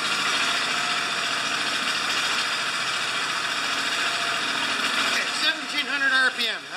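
Honda E3500 generator engine runs steadily at 1700 RPM, a close, continuous mechanical drone with harmonic hum, joined near the end by a voice speaking over it.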